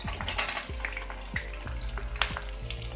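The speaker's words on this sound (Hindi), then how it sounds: "प्याज हमारी भुनने लगी है" Onion and ginger pieces fry in a pan in Indian home cooking, a steady close sizzle with a few knocks and scrapes of a spoon against the pan, no voices.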